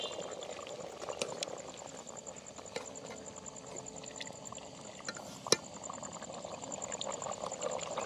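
A village chicken curry boils in a pot, with a steady bubbling and popping simmer close by. Occasional sharp clicks and clinks of a utensil on the pot sound over it.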